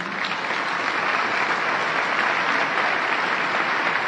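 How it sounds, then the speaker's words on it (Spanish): Steady, dense applause from a festival crowd greets a choir director on stage at an international choral festival opening in Potosí, Bolivia, sustained and even throughout with no voices on top. "Un aplauso para él."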